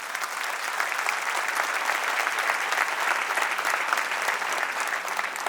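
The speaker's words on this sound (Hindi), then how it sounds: "एक बार तालियां होनी चाहिए।" A large audience breaks into steady, sustained applause, a dense wash of many hands clapping at once that holds evenly from start to finish with no talk over it.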